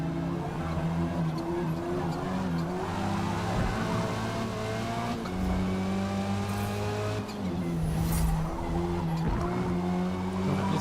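A race car in the video game Forza Motorsport brakes hard and skids, engine droning loudly while tires squeal and scrub in long continuous stretches, with no talking.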